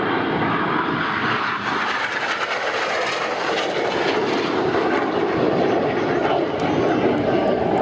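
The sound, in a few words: aerobatic display aircraft flying overhead at airshow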